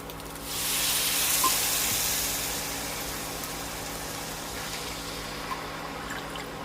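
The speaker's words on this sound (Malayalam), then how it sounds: "ഇനി ഇതിലേക്ക് വെള്ളം ചേർക്കാം" Water is poured into a pan of frying rice for carrot rice, setting off a loud hissing sizzle that rises quickly, then settles into a softer, steady bubbling hiss.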